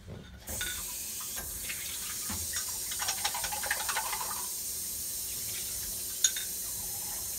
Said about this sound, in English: So you're going to want to rinse your brush.